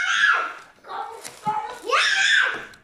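A young boy at home screams in loud, piercing bursts, rising and falling across a few seconds with short gaps between cries.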